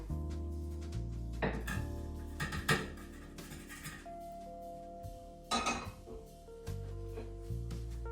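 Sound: transferring fried eggs onto a plate

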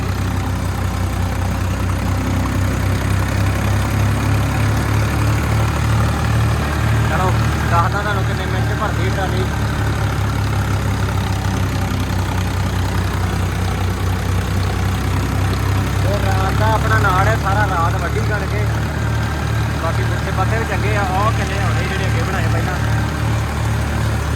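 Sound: tractor engine running

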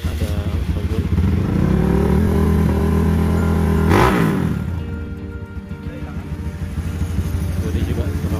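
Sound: trail motorcycles riding through the forest

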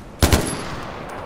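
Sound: gunshots in video game Far Cry 4

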